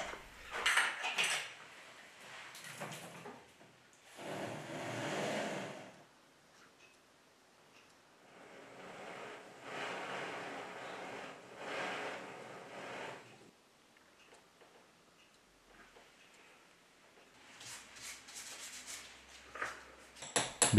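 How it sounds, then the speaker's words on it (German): A jeweller's saw cuts off the end of a gold ring shank, a fine rasping scrape repeated in several bursts with pauses between them, close and fairly loud, with no voices. "Ich säge das Endstück der Ringschiene ab, um die Diamantfassung einzupassen und sie anzulöten."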